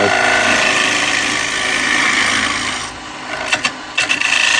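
A carbide cutter scrapes against spinning wood on a lathe while a cowboy hat is turned, a loud continuous rasping roar over the motor's steady hum, easing briefly then breaking into a few sharper catches near the end.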